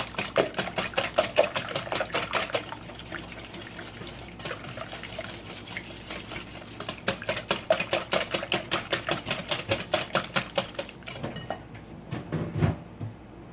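Eggs whisked in a bowl for a muffin tin quiche, giving a fast, steady train of light metallic clicks and taps, close and fairly loud, with a brief pause near the end.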